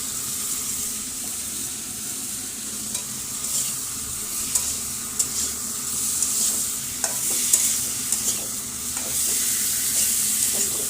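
Steamed radish frying with turmeric, chili, cumin and coriander spices, stirred steadily in a pan: a continuous close sizzle broken by repeated light scraping clicks of the spoon.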